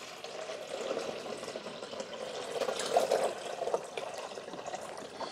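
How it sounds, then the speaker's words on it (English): Fresh water poured into the rear reservoir of a Braun Pure Flavor 14-cup KF5650 coffee maker makes a soft, steady splashing trickle lasting several seconds, close and quiet with no talk. "I got this filled up with fresh water. Just pour it in the back here."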